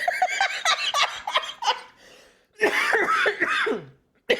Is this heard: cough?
yes